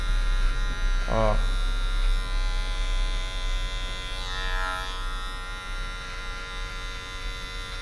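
Electric hair clipper with a zero guard cutting hair during a mid fade haircut, a loud close steady buzz with a low hum running throughout, with a brief voice near the start.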